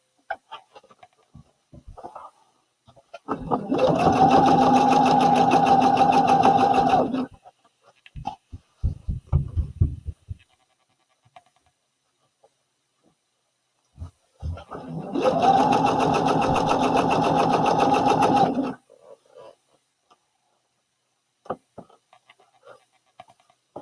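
A sewing machine stitches a romper in two loud, steady buzzing runs of a few seconds each, separated by quiet handling clicks and fabric rustles.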